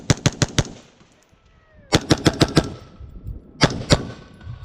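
A rifle fitted with a muzzle device fires in three sharp bursts of rapid shots, each crack loud and close with a brief ringing tail, separated by short quiet gaps.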